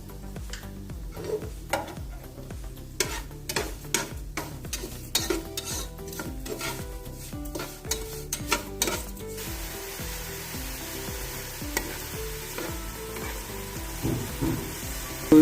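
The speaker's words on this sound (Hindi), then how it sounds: "ऑयल हमारा गर्म हो चुका था। तो अब बारी आई है, हम इसमें शुगर डालेंगे" Sugar, about three teaspoons, sizzles in hot oil for Kabuli pulao while a spoon scrapes and stirs the pan in quick repeated strokes, the frying hiss steadying as the stirring stops.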